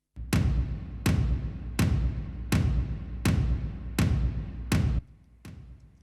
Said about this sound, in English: I am also adding tom samples, which sound like this.